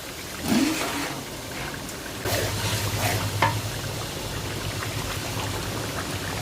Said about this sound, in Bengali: প্রত্যেকটা মশলা দেওয়ার পরে কিন্তু আমি একটু সময়টা আলাদা আলাদা করে কষিয়ে নিচ্ছি